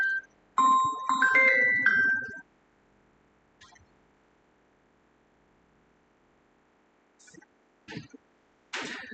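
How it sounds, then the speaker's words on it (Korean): A phone ringtone for an incoming call plays as a short, bright melodic burst of about two seconds near the start. It is followed by a near-silent room with a few faint clicks and taps. "성희 와이프가 왜 전화했을까?"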